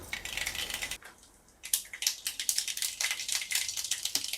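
Rapid crackling and popping of mustard seeds spluttering in hot oil, close by, pausing briefly then bursting into dense irregular pops.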